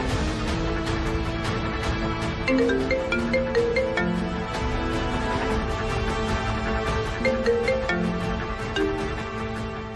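A phone ringing unanswered, its melodic ringtone repeating steadily and loudly without interruption.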